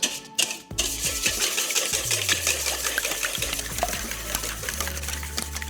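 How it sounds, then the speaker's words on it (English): Eggs being whisked in a bowl for Filipino leche flan, five eggs beaten briefly to break the yolks, giving a steady close rattling and swishing of the whisk with no talking. "Give those a little whisk just to break up the yolks"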